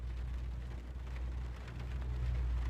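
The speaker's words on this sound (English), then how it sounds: "Yeah, it's raining." Rain falling on a greenhouse in a back garden on a wet bank holiday afternoon, heard from inside as a steady, even patter with low rumbling underneath, continuous and fairly quiet, with no voices.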